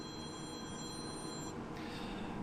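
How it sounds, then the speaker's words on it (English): A phone rings with a bright electronic tone for about a second and a half over the loud, steady hum of a John Deere tractor's running hydraulics. "my phone is ringing"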